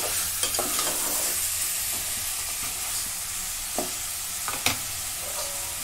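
Mutton sautés in a hot pan for a spicy curry, a steady sizzling hiss with occasional sharp stirring clicks and scrapes against the pan, close and moderately loud, with no voices.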